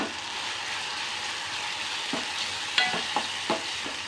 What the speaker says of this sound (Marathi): त्या वाटणाबरोबर टोमॅटो आणखीन थोडा शिजला जातो, छान असा भाजला जात आहे।